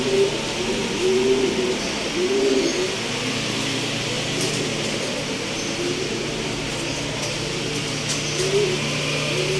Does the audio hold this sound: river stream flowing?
no